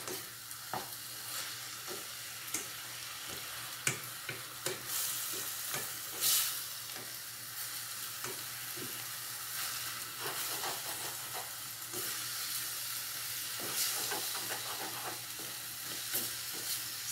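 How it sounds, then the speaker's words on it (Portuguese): Egg frying in olive oil while being broken up and stirred in a pan for zucchini farofa, a steady close sizzle with repeated scraping strokes of a utensil, no voices. "E você vai agora dando uma mexida nele, para ele cozinhar bem o ovo"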